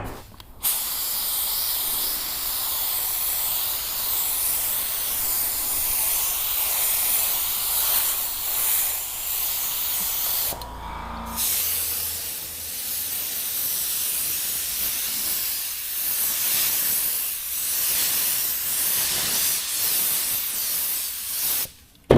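Spray gun from a small Harbor Freight compressor laying base coat on a car at low pressure, a continuous close hiss in long passes with a short pause midway.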